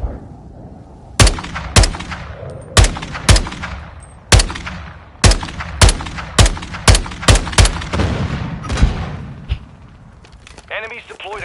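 Heavy video game gunfire rings out as a dozen loud, sharp shots in an irregular rhythm, some in quick pairs, over a background of game noise and radio-style chatter.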